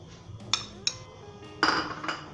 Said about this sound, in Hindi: मिक्स कर लें इसे हल्के हल्के साथ।